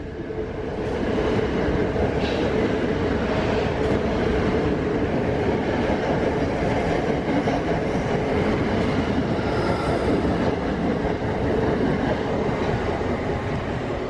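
A train rumbles steadily through a station at close range, a continuous loud roar of wheels and carriages with faint rail clatter, lasting throughout with no voices.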